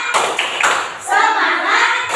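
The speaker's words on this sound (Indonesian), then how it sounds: "yuk kita tepuk semangat dulu" A primary-school class does a rhythmic spirit clap in unison, with bright clustered claps close by, mixed with children's voices chanting.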